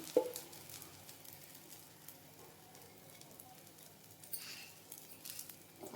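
Jowar flour dosa frying in oil on a pan after being turned, a faint, steady sizzle with soft crackles close by and a slightly louder burst near the end.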